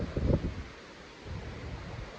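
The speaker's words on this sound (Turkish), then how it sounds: "Duyuyor musunuz ama bu rüzgar sesi." Low, blustery rumble of wind buffeting the microphone in Ushuaia, Argentina, gusting harder at the start, easing, then rising again into a steady roar.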